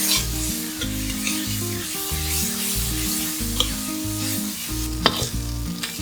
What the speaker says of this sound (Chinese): 炒到差不多看到金黄色后，放入芝麻粉、味噌、辣豆瓣酱。